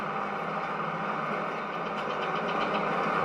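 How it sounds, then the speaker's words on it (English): Tractor engine running steadily while planting a steep field, a continuous mid-level drone with no breaks across the whole stretch. "Nothing this tractor can't handle at all."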